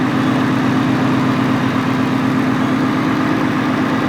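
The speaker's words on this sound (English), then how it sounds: "I'm just going to let it sit here and idle" A Ford F-150 with a VMP Gen3 supercharger idles at its first startup, giving a loud, steady, close engine drone with a constant low hum and no variation or talk.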